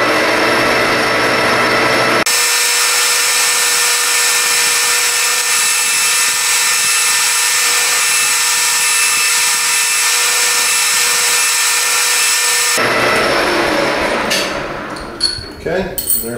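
A metal lathe cuts a thread relief into a tube, giving a loud, steady whining hum with high tonal ringing that runs for about ten seconds, then stops into clattering handling noises.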